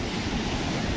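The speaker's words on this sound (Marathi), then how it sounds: "लाटा बाहेर येतात लाटा" Ocean waves rush onto a beach, a loud, close, continuous roar of surf mixed with wind buffeting the microphone.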